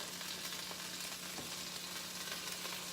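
Bread browning in butter in a pan gives a steady, soft sizzle and hiss throughout, faint and continuous, with no talking.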